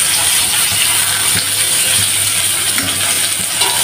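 Frozen jackfruit seeds frying in a pan of oil, a loud continuous sizzle and crackle with scattered small pops and clinks throughout, no speech.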